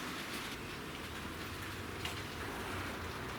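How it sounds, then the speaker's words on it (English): Rain falls steadily outdoors beside a Mitsubishi Pajero, a soft, even patter on surfaces at low level, with no talk over it. "It's starting to rain"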